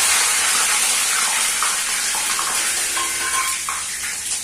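Curry leaves frying in hot oil for homemade Bikaner-style dry fruit namkeen, a loud continuous sizzle close up with faint stirring scrapes, no voices.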